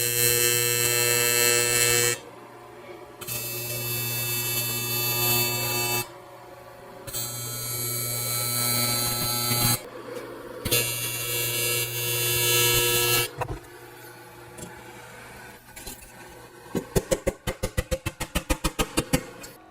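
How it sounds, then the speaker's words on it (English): A TIG torch with a finely sharpened 2% lanthanated tungsten makes hot, fast tack welds along a joint in a curved seat panel on a buck. Four loud, sustained electric buzzes are separated by pauses, then comes a quick train of short pulsing zaps. "So I'll go along this joint making hot, fast tacks."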